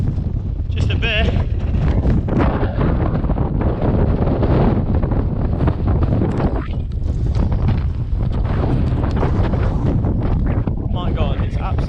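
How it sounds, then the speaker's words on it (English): Strong wind batters the microphone on a hillside at Caer Caradoc in the Shropshire hills, a loud constant roar and buffeting throughout while people talk over it. "Bit windy, like."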